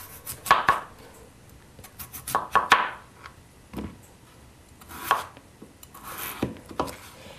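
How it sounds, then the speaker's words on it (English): A peeled potato being cut into small chunks on a cutting board, with irregular sharp knife knocks, some in quick clusters and some alone, separated by quiet pauses. "We have our peeled potato. Now we're gonna cut it."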